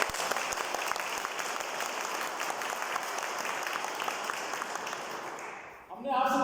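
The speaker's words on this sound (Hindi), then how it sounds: "हमने आपसे तालियां इसलिए बजवाई है" Loud applause from an audience at a product presentation, dense continuous clapping that holds steady for several seconds, then fades out as a voice begins speaking.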